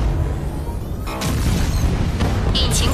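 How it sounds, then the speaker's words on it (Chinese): Cannon fire in an animated series sets off a sudden booming blast about a second in, followed by loud rumbling and debris-like crackle, with brief voices and sharp effects layered near the end. "听我指令， 给我轰！"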